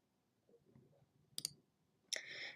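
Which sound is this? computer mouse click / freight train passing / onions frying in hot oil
computer mouse click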